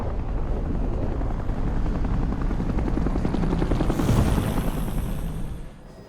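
An aircraft flies in a Bayonetta video game cutscene, with a steady, loud rotor-like engine drone throughout that swells slightly near the end and then drops away.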